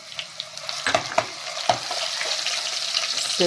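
Garlic-ginger paste and cumin seeds frying in hot oil give a steady close sizzle, with a few sharp crackles and pops early on and no voices.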